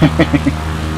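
A human voice imitates an airplane engine with a few quick buzzing, sputtering bursts, close and loud, then trailing off.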